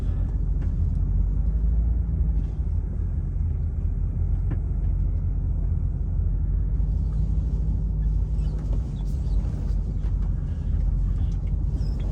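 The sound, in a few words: big truck driving and turning around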